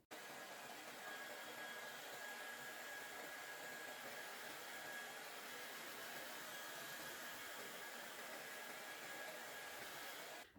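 A hair dryer blowing on wet, soaking hair, a continuous steady roar with a faint high whine, close and unbroken for the whole stretch, with no voices.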